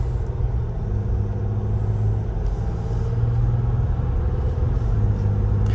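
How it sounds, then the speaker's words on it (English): A 3-liter diesel engine in a 2022 Jeep High Altitude idles steadily up close, a deep continuous rumble with a low throbbing hum and no pauses or talk. "It's definitely a diesel sound, but it's not what I'm used to"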